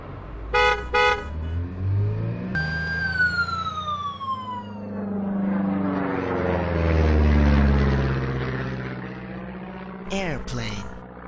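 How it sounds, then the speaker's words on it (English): A car honks twice in quick beeps, then a siren-like tone sweeps downward as a vehicle rushes past with a swelling then fading roar, and another short honk follows at the end. "Car."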